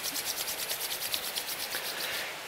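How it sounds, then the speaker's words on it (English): A pair of hands rubs briskly together in a rapid, even back-and-forth rhythm, a soft close-up skin-on-skin swishing that repeats about a dozen times before easing off. "Rub one last time."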